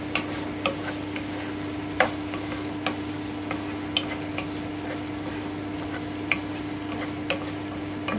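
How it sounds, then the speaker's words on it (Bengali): Beans, capsicum and peas frying in a pan for egg fried rice, a constant sizzle under a steady hum, broken by regular sharp clicks and scrapes of a spatula stirring, close by, no talk. "আমি একটু নেড়ে নিচ্ছি।"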